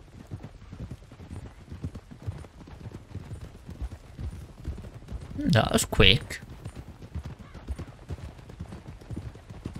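Steady clip-clop of horse hooves from the video game Red Dead Redemption 2 runs throughout, with a voice speaking briefly over it and a louder burst of noise in the middle.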